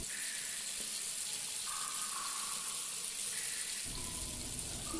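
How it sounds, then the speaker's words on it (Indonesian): A water tap beside a boy in a cinema toilet runs in a steady, continuous hiss of flowing water, moderately quiet and alone, with no voices. "Bagus melihat keran air yang di sampingnya tiba-tiba terbuka sendiri"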